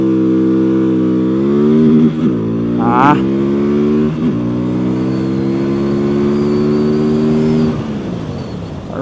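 A QJMOTOR SRV300S motorcycle accelerates hard through first gear, its loud engine note climbing with a brief stutter, pulling up to the rev limiter and then dropping away. A rider briefly exclaims over it.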